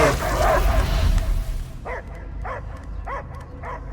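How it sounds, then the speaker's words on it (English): A dog barks in the Guardians of the Galaxy video game, four evenly spaced, muffled barks following a loud rumbling passage of game sound. "I hear only barking."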